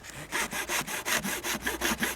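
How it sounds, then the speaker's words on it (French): A metal file rasps back and forth across a wooden whistle blank, scoring it a third of the way along, in about ten steady, evenly spaced strokes, close and fairly loud with no talk. "Ensuite, nous prenons la lime. Nous limons à 1/3"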